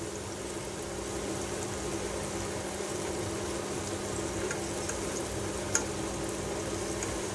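Chicken coated in ready mix fries in deep oil, giving a steady, even sizzle and bubbling hiss that continues without a break, close up and alone.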